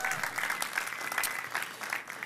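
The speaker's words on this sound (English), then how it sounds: "Can we give God one more good hand clap before we go any further?" A church congregation claps together during a Sunday morning service, a steady, fairly close round of hand claps lasting a couple of seconds.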